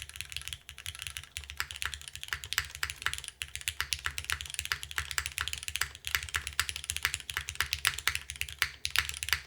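Keystrokes clatter on a TOFU TKL keyboard with a gasket mount and MX2A switches, a close, steady stream of fast typing with a muted thocky character and no voices.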